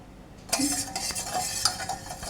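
A spoon stirs milk flavoured with vanilla essence as it heats in a pan for fruit custard, giving close, soft scraping and clinking strokes over a faint sizzle, with no voices.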